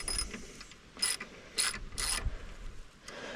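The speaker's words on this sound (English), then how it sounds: "I'm going to undo this and take the nut off" A nut is undone on the transaxle of a Mountfield tractor mower, giving quiet, close ratcheting clicks in several short bursts with pauses between.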